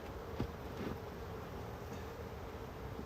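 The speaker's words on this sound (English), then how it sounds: "let those bees work their way down into their new home" Honey bees buzzing around a hive box during an apiary inspection, a continuous close drone with a few louder passes as individual bees fly near, no voices.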